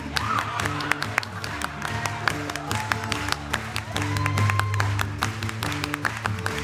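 A live rock audience claps steadily along at an in-store concert in Hollywood, a rhythmic patter of hands under the band's music and sustained tones.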